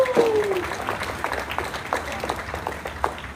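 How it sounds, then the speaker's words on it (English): Crowd applause at a state fair FFA breeding heifer show awards ceremony, moderate clapping spread across a large audience while an announcer's voice carries over it. "please give a round of applause out of the Angus Division to Carolyn Mayer of Lanesboro."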